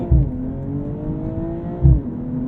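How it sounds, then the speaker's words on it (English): A 2022 BMW M240i xDrive coupe launching hard from a standstill with launch control, its engine note climbing steadily through the revs with a sharp thump at the start and another at a gear change. "Launch control active, let go."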